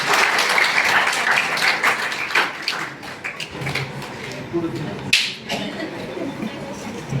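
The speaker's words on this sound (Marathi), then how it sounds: "जर आपण टाळ्या वाजू शकतो." An audience at a public talk applauds, with dense, continuous clapping that thins out midway before a few sharper claps, and a voice speaking faintly beneath it.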